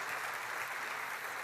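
A church congregation applauds to welcome visitors, a brief, fairly faint and even wash of clapping heard from a distance with no voices over it.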